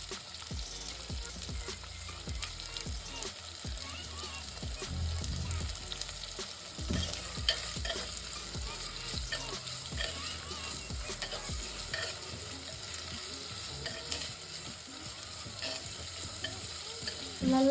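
Mutton liver gravy frying and being stirred in a pan, a steady sizzle with repeated scraping strokes of a spoon throughout, close and moderately loud, with no talking.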